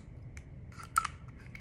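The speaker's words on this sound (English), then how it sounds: "It looks like a little pen, but it's actually a pair of scissors." Tiny pen-shaped scissors from a Sanrio haul give a couple of quick, soft snips close by in an otherwise quiet room.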